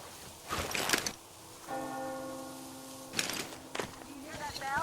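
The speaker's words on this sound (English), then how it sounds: "You hear that bell?" A single bell in the Metro Exodus video game tolls with a sustained, ringing tone between bursts of knocking and scraping from a rowing boat, with sounds of movement nearby.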